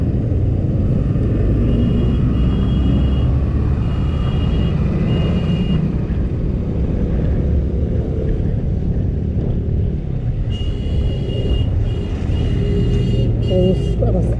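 Heavy traffic rumbles along a highway in Barisal during the rainy season, with loud continuous engine drone from passing vehicles and horns briefly rising near the end.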